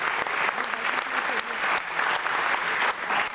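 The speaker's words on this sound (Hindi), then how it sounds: "जोरदार तालियों से एक बार राघवेंद्र भाई का स्वागत करें" Audience applause welcomes a poet to the stage at a Kavi Sammelan, dense clapping that is loud and close and swells in waves throughout.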